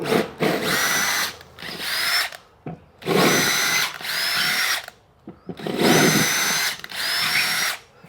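A power drill widens four mounting holes in an insulated wall for a Level 2 EV charger, running in several loud, close bursts of a second or two each with short pauses between them.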